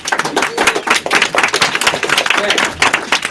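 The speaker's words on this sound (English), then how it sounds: "big round of applause for Brad" Close, loud clapping from a seminar audience on negative self-talk, quick dense hand claps in an uneven rhythm that carry on for about three seconds, with faint voices mixed in.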